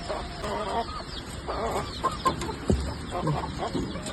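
Hens cluck and cackle in a busy flock, with calls from two roosters mixed in, over a steady noisy background and occasional thumps.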